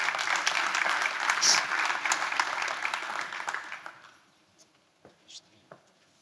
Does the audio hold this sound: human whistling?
no